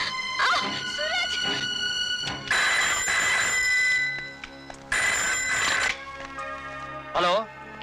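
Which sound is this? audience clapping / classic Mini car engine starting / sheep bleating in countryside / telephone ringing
telephone ringing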